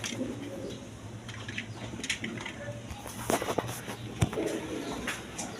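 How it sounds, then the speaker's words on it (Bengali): Army pigeons of the Lahori and red Ghorra breeds coo in a loft, a steady low murmur throughout with occasional sharper bird calls and clatter, a voice speaking now and then over them. "দেখেন একদম ছটপট কবুতর দেখেন"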